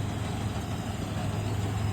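A steady, low tractor engine idle rumbles continuously with an even, unchanging hum and no voices.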